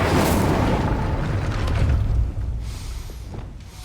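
A fire spell cast in the Hogwarts Legacy video game gives a loud, broad whooshing burst that roars at full strength for about two seconds, then thins and fades away.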